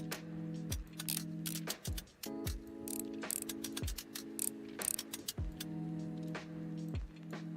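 Repeated mechanical ratcheting of screws being unscrewed in the video game Restory, each turn a steady whirring buzz ending in a descending wind-down, recurring about five times in a regular rhythm, close and clear.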